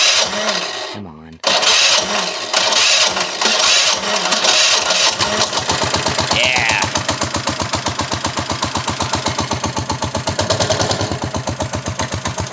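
Predator 212 go-kart engine fitted with electric start cranks on the starter, then catches and runs with a rapid, steady chugging idle close by, with brief talk early on.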